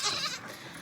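Goats on a homestead bleat loudly and close by while being fed fresh Timothy hay, with one sustained cry at the start and no talking.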